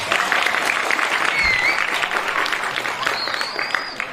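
An audience claps at a Balinese arja comedy performance, steady dense applause for about four seconds that fades slightly toward the end, with faint whistles or voices briefly audible.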